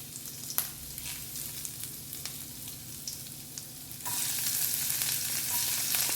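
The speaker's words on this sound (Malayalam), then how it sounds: "ചെറുതായി ഫ്രൈ ചെയ്യുക." Ginger and garlic frying in about a tablespoon of oil, a close steady sizzle with light stirring clicks that swells sharply louder partway through, no voices.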